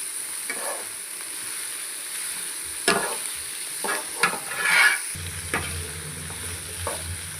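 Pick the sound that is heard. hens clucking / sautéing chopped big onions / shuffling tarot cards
sautéing chopped big onions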